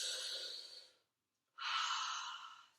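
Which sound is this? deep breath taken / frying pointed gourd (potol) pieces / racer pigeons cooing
deep breath taken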